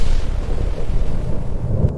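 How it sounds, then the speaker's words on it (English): A deep, loud rumble of thunder from a night storm in a forest, filling the whole moment with a heavy, rolling boom. "One night, a storm struck."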